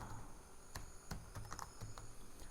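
Soft keystrokes tap a computer keyboard in a short, uneven burst over faint background hum.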